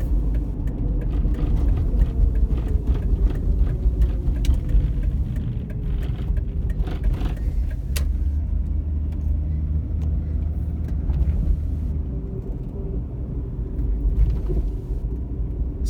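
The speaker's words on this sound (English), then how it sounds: "So we're gonna try to kind of drive a little slower than normal on this street" A car rolls slowly down a residential street of large homes in Big Bear Lake, California, as snow begins to fall. The engine and tire rumble stay steady and close throughout, with no talking.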